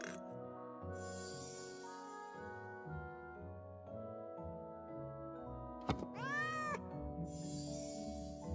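A cat meows repeatedly, long drawn-out cries with a sharp thunk partway through, close and clear over a low tonal background.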